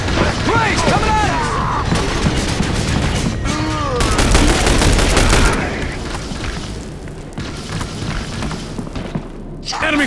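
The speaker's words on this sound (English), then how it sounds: "Enemy fire!" Enemy gunfire rages in The Bureau: XCOM Declassified, with loud repeated shots and booms from a sustained firefight alongside shouted voices, the heaviest volley coming midway.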